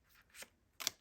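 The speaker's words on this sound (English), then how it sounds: "Let's shuffle it one more time." A tarot card deck is shuffled in two quick riffling bursts, close and crisp, with no one talking.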